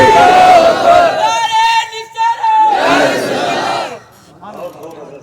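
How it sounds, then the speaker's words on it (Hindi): A large crowd at a religious gathering shouts a loud, unified chanted reply to the Nara-e-Takbeer slogan, its voices swelling in waves before fading into quieter murmuring. "अल्लाह आबाद रखे नारा लगाने वालों को और नारों का जवाब देने वालों को"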